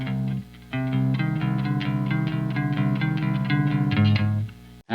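Clean electric guitar played through an EVH 5150 Iconic amp, a steady run of picked chords and ringing notes with low mids and varying highs, close and loud, no voices.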